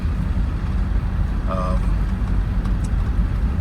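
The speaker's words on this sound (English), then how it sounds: "Just drive a little test drive here around the neighborhood" A car on a slow test drive around neighborhood streets, its steady engine and road rumble filling the whole stretch at close range, with no talk over it.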